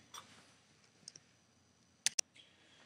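A computer mouse clicks while working in a spreadsheet: a quiet room with a few soft taps, then two sharp, close clicks in quick succession near the end.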